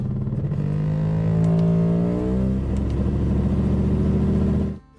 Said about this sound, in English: this customer came in with their Mercedes because it sounds like an outboard motor.